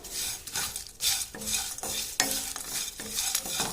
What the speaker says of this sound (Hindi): तो इसको हल्की आंच पे सेकना है दोस्तों, हल्की खुशबू आने तक।